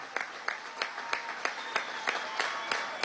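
Scattered applause from a crowd at an outdoor government housing handover event in Ciudad Tiuna, with rhythmic clapping peaks and light crowd noise throughout.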